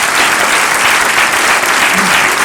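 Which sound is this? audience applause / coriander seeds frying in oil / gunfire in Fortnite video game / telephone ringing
audience applause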